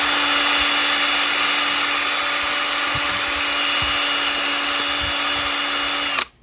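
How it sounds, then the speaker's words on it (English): A power drill spins a homemade bait mold tool with grooves cut into it and a sanded, polished tip, giving a loud, steady high whine that cuts off abruptly at the end. "It's mostly a drill, but we chucked this up in here, and we kind of cut some grooves in it."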